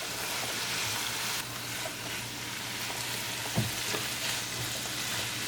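Mushrooms and sweet mini peppers sizzle steadily in a hot pan as a vegetarian sabzi cooks, with occasional soft stirring scrapes and a faint low hum behind. The frying runs as a continuous broadband hiss with no speech.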